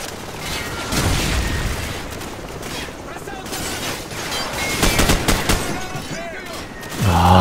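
Grenade blasts and bursts of gunfire in Call of Duty: Modern Warfare, a dense, loud battle din with heavy booms rising around the middle and again at the end.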